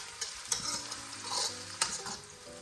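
Onions frying in a pot, a close sizzling crackle broken by several sharp stirring scrapes and knocks in quick succession, with no speech.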